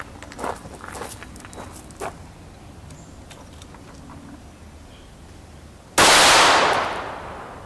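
A single loud, sharp shot from a subsonic round fired through a chronograph at T6B body armor rings out and decays slowly, after several seconds of faint footsteps and light clicks.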